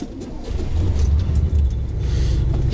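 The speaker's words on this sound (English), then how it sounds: "So the Caddy is on the road right now." Caddy car driving on a road near a Sainsbury's car park in Grimsby, a steady low engine and road rumble that holds throughout at a close, moderate level, with a few faint bird coos in the background.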